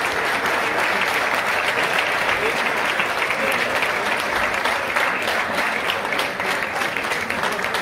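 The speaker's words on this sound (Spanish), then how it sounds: "Un aplauso." Sustained applause fills the room at a summer golf championship prize ceremony at Club de Golf La Cuesta in Llanes, a loud steady clapping crowd lasting several seconds with some voices mixed in.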